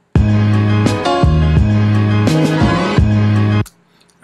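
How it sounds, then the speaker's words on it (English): Hip-hop remix section built in Ableton Live, with a punchy beat of heavy bass hits ending in a short drum fill leading into the next section, loud and without talk, then cutting to near silence. "what I added was just that little drum fill that's going to go into my next section."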